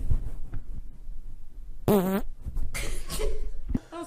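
A girl lets out a single loud, sputtering fart lasting about half a second, close to the microphone, in an otherwise quiet room.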